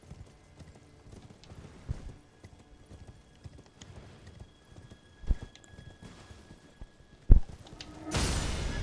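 A horse galloping in Elden Ring, with rapid, rhythmic hoof clip-clops at moderate volume, broken by a couple of sharp impacts and ending in a sudden loud burst of noise.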